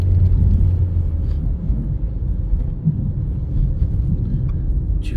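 A manual-gearbox car accelerates during a driving lesson, producing a steady low engine rumble heard from inside the cabin, continuous and fairly loud with no clear rise in pitch.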